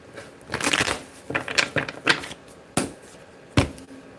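Crisp riffling bursts of tarot cards being shuffled, several quick rounds separated by short pauses, close by with no talking.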